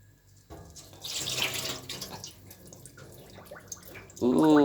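Tap water runs into a sink as rice from a 5 kg bag is rinsed and stirred by hand, a steady splashing wash that swells in the middle, with a voice talking briefly at the end.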